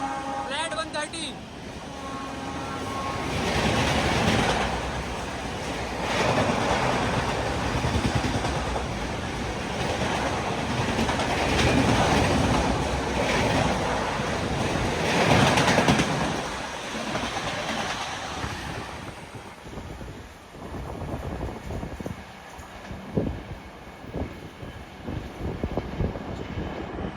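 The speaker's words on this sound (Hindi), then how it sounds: "फ्लैट 130 की रफ्तार में AP एक्सप्रेस चीरते हुए ये होडल रेलवे स्टेशन को" Andhra Pradesh Express 20806 races through Hodal railway station at about 130 km/h, a loud sustained roar of wheels and carriages rushing past close by with clattering rail noise, fading toward the end while someone talks over it.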